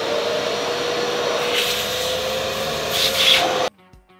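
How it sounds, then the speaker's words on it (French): A steady, loud vacuum cleaner whine with rubbing, scraping surges on a leather car seat, running continuously before cutting off abruptly near the end. "On va d'abord passer un bon coup d'aspirateur dessus"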